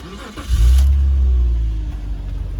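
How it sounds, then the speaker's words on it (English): A 3.0-litre BMW 330Ci M Sport automatic cranks and fires with a loud surge, then settles into a steady, fairly close idle that eases slightly in level toward the end. "I'll just start the engine."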